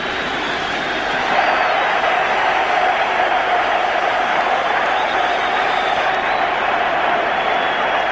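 Liverpool football crowd roaring in sustained delight after a Tommy Smith headed goal against Borussia Mönchengladbach, a dense, loud wall of cheering that swells after the first second and holds steady throughout.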